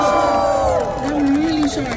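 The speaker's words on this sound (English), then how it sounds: "Can we get a round of applause from you?" A crowd at an Indian Independence Day flag-raising ceremony in Times Square cheers and shouts loudly and continuously, with voices rising and falling under an amplified voice.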